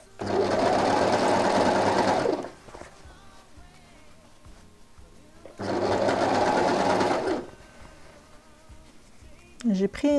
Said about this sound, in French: je vais surfiler chaque marge de couture séparément